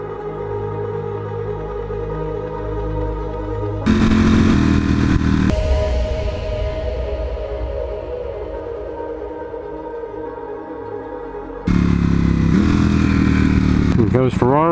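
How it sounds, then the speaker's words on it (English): A BMW S1000 motorcycle engine roars loudly and close, rising in bursts of revving with sustained high-pitched engine drone between them, ending in another sharp rev. "BMW S1000."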